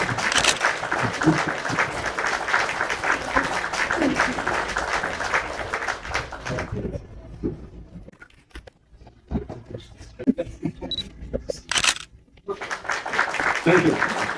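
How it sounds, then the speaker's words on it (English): Conference audience in Poznan, Poland applauding, a dense wash of clapping for about seven seconds, then quieter scattered sounds and a fresh burst of claps near the end. "Yes, some applause to this."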